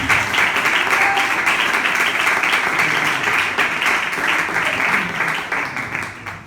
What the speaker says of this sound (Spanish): Aplaude cada vez.